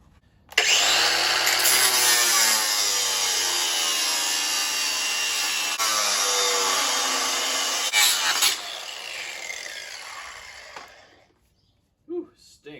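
An angle grinder cuts during a Pontiac Fiero radiator fan replacement: a loud, continuous, harsh whine holds for about ten seconds, then winds down and fades out.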